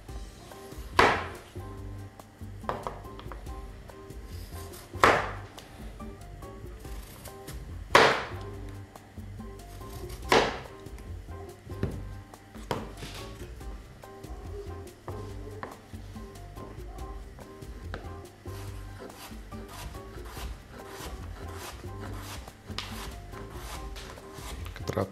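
A knife chops potatoes into very thin sticks on a board for a tomato and shrimp salad, giving a few sharp, separate knocks spread over a steady low background hum.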